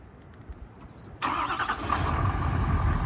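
A Ford diesel pickup truck cranks and starts with the hood closed after a battery swap, a few faint clicks, then the engine catches abruptly and settles into a loud, rough, steady idle.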